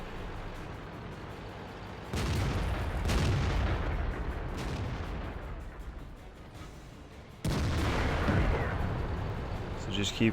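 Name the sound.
tank cannon fire in the video game World of Tanks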